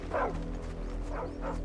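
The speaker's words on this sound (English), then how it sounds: "That's a dog." A dog in the Final Fantasy XVI game world gives a few soft yips and whimpering barks, two or three short calls close by over a low ambient hum.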